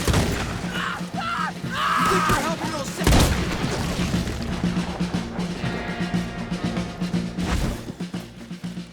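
Cannon fire in the Red Dead Redemption 2 game, heavy booms and crashing blasts mixed with gunfire and battle noise, loud and close, with voices talking over the fighting.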